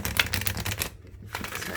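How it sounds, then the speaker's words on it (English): Oracle cards shuffled by hand, a dense run of crisp riffling clicks and slaps that pauses briefly near the middle, then resumes, close and fairly steady. "I feel like I've been shuffling them enough."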